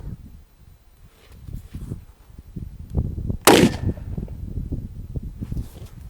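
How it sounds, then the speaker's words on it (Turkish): A shotgun fires a single Sterling soft point round at a kevlar vest target outdoors, a loud, sharp close-range blast standing out from low background rumble and handling noise. "İkinci atışımızı Sterling Soft Point ile gerçekleştiriyoruz arkadaşlar."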